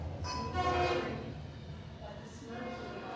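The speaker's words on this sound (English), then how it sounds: "Oh, there's a train. Listen." A train rolls past close by outside an antique mall, a steady rumbling clatter with horn-like tonal notes swelling early and fading, heard over faint background voices.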